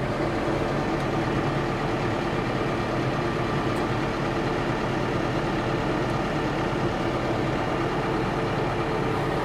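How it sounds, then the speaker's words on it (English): A Case Maxxum 125 tractor engine runs at raised revs: a loud, close, steady diesel drone that holds even for the whole stretch without dipping. "give it a bit of revs"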